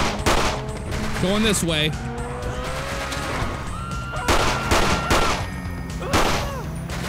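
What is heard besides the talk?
gunfire in GTA video game, Los Santos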